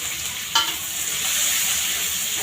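Chopped onions tipped into a hot pan give a brief clatter and then a steady bright sizzle that carries on alone, close and even.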